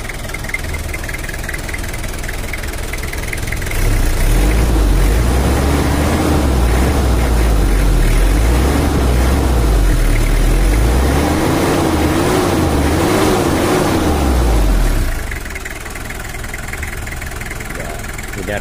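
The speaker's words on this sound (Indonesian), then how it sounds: "Ini adalah suara standarnya untuk kicang LGE diesel" Toyota Kijang LGX diesel engine idling in standard tune, heard close with a steady rough low rumble and knocking chatter that grows louder and busier for several seconds as the engine is revved, then settles back to idle.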